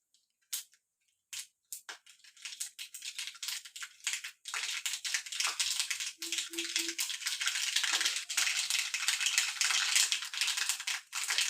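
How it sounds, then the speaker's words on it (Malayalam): Scattered sharp crackles and pops build into a dense, steady spatter, like mustard seeds popping in hot oil, heard close with no talking. "കടുക് നല്ല പൊട്ടി വരുന്നുണ്ട്."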